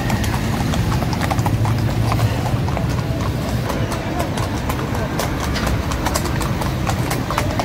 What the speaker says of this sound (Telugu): ఇక్కడ సారు వాళ్ళు చూడండి భలేగా గుర్రాల మీద రైడింగ్ చేస్తున్నారు.